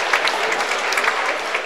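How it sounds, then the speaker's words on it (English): A crowd applauds steadily at a high school basketball game during the 2C Classic 2024 tournament, with dense clapping throughout. "Applause for the girls."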